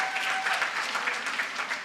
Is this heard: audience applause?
yes